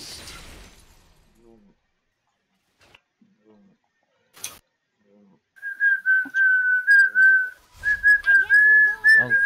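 Whistling into a microphone over an online voice chat, a sustained, slightly wavering tone in two long phrases after some quiet clicks and a brief noise, loud and close.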